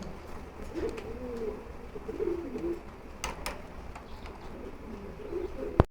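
Giribaz pigeons on a farm coo faintly, with a few low burbling phrases mixed with scattered clicks and a sharp knock near the end.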